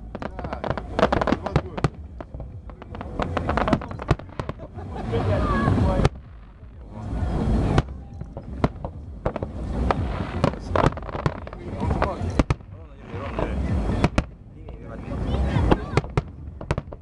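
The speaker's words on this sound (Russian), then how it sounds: "Последний был салют." Fireworks at a Neptune Day celebration burst in a loud, irregular string of booms and crackles, some close together and others spaced by brief pauses, with voices mixed in.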